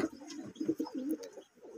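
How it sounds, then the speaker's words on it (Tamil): Fantail pigeons at a nest where chicks are being fed, with soft, low, repeated cooing and murmuring close by in a quiet setting. "இது வந்து நம்ம ஃபேண்டல் குஞ்சு இதுங்களுக்கு இதுதான் தீனி ஊட்டுது"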